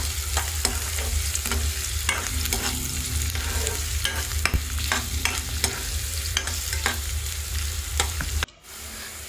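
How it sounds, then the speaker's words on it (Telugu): Thinly sliced onions and green chillies fry in hot oil for a brinjal masala fry, with a loud, busy sizzle and repeated scraping stirs and spatula clicks, then a sudden drop near the end. "ఆయిల్లోకి సన్నగా కట్ చేసి పెట్టుకున్న ఉల్లిపాయలు, పచ్చిమిర్చి ముక్కల్ని కూడా వేసి ఉల్లిపాయలు పచ్చివాసన పోయి బ్రౌన్ కలర్ వచ్చేంత వరకు ఫ్రై చేసుకోవాలి"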